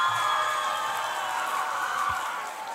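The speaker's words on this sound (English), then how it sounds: "Please give a huge round of applause for them." A school auditorium audience at an inter-school quiz competition cheers and whoops for announced winners, a steady, loud roar of many voices that fades slightly toward the end.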